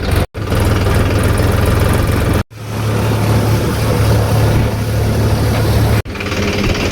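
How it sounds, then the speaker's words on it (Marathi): A New Holland tractor with a failed piston bearing runs with a loud, steady low engine drone and hum. The sound is broken by a few brief, sharp dropouts. "ट्रॅक्टर घेऊन चाललोय न्यू हॉलँडकडं"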